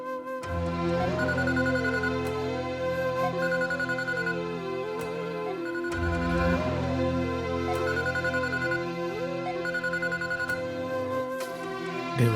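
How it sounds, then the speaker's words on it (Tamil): A mobile phone ringtone plays an incoming call in a family home, a steady repeating melodic ring that cycles several times, clear and alone without talk. "சித்தப்பா ஃபோன் பண்ணுறாரு"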